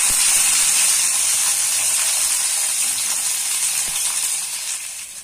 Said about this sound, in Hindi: फ्लेम को हमें मीडियम से लो रखना है ताकि सब्जियां हमारी अच्छे से फ्राई हो जाए।